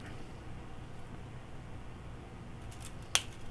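Scissors make a single crisp snip, trimming wire or cord while a vintage-style pendant necklace is being made. The cut is brief and close, with a quiet background before it.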